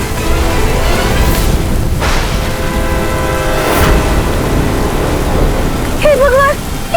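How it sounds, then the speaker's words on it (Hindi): Heavy rain pours steadily across a surface while thunder rumbles and cracks in a couple of rolling swells, with a brief high warbling tone near the end; loud and continuous, no talk. "हे भगवान, ये बारिश कैसे आ गई हमारे लिए?"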